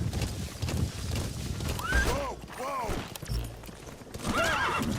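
A horse in Metal Gear Solid V: The Phantom Pain gives several whinnies, each a rising and falling neigh. Clip-clop hooves and game sounds run underneath.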